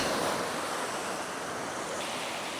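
Steady roar of sea surf washing ashore, loud and continuous, with wind mixed into the rushing water.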